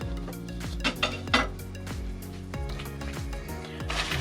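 A spoon is put away among clattering dishes in a kitchen during baking preparation. Close, repeated clinks and knocks of metal and crockery come in quick succession, with a few sharper clanks standing out.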